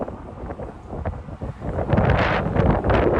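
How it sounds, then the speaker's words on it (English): Strong wind in Manhattan, New York City buffets the microphone, a rough roaring rumble that swells louder in the second half, close and continuous. "And it is really windy right here."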